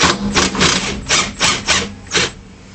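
A new DeWalt impact driver fires in a run of short, sharp rattling bursts, about six close, loud pulses with brief gaps between them, with no one talking.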